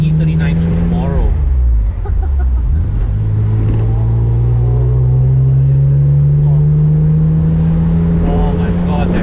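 A BMW M3 E46 Convertible's engine drones loud and close, its pitch dipping then climbing steadily as the car pulls and accelerates, a strong continuous growl filling the whole stretch.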